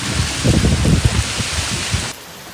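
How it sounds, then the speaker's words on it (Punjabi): Heavy rain driven by strong wind during a storm, a dense, close roar of rain with low rumbling gusts buffeting the microphone that cut off sharply near the end. "ਦੇਖੋ ਬਈ ਚੰਗੀ ਤੇਜ਼ ਬਾਰਿਸ਼ ਲੱਗੀ ਖੜੀ ਹੈ ਹਵਾ ਵੀ ਨਾਲ ਬੜੀ ਤੇਜ਼ ਆ"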